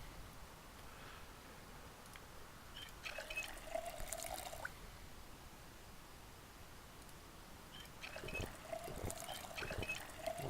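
Containers are filled with water in the survival video game Project Zomboid: two short bursts of pouring and trickling water stand over a steady low hiss, the second burst joined by a few dripping taps.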